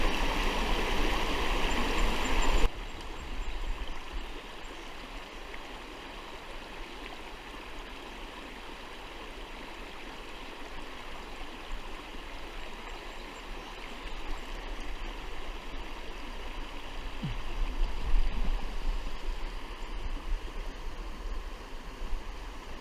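Fishing Creek, a Pennsylvania trout stream, flows with a steady broadband rush of water, a louder splashy burst at the start and then an even, continuous babble close by, with no voices.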